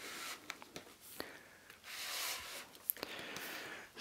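Cardboard of an Apple late-2015 5K iMac accessory box sliding open, a soft drawn-out rub with scattered light taps and scrapes, close and quiet.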